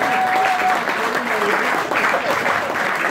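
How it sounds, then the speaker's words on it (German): Steady applause from a crowd at a post-match gathering after a handball game in Oppenweiler, continuous and close, with a voice speaking over it. "Applaus für Luca Braun"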